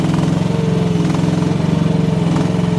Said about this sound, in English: I have the engine a little bit revved right now